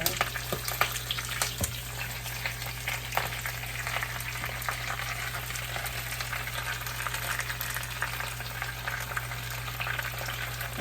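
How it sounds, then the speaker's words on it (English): Spinach sautéing in a pan, a steady close sizzle and crackle that holds evenly throughout with faint stirring scrapes, no talk. "Saute that a little bit, let it shrink."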